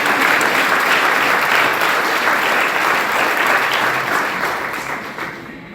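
Loud, sustained applause from a church congregation praising God, a dense wash of many hands clapping close by that fades slightly toward the end.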